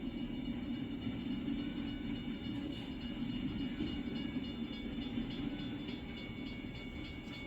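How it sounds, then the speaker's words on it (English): A train rolls along a railroad track in American Truck Simulator, a steady low rumble with a faint rhythmic rattle, moderately distant and unbroken throughout, with no talk. "You guys can probably hear that train coming."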